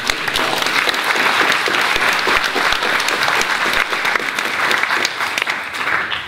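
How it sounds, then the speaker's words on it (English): A crowd claps loudly and continuously at a political speech event, dense applause filling the whole stretch without letting up. "So can I have a round of applause, please?"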